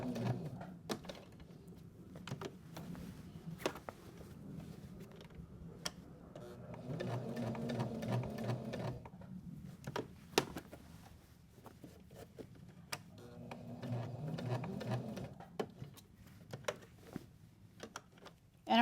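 A sewing machine stitches around a curve on an upcycled shirt in two short, quiet bursts of whirring, broken by pauses with scattered light ticks and clicks.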